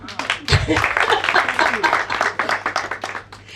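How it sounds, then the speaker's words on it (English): An audience claps throughout in a dense, steady wash, with a voice talking over the applause. "So you clap for me"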